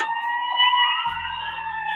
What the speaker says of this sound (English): y'all hearing sirens?